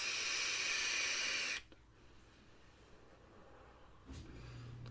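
A Horizontech Falcon King sub-ohm tank with a dual mesh coil at 0.32 ohms and airflow wide open gives a loud, airy hissing draw for about a second and a half, then goes quiet with a faint breath.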